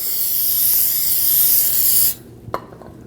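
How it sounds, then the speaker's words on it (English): Brake parts cleaner sprays in one long, loud, close hiss onto the back of a new front brake rotor for a 2001-2009 Volvo S60, then cuts off, followed by a brief clink. "Now with the new rotor, we're just going to take some brake parts cleaner, clean the back side"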